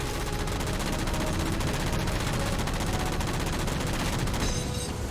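Continuous rapid gunfire blazes in Halo 4 as jammers are shot down, a dense unbroken roar of shots held at constant loudness for the whole stretch.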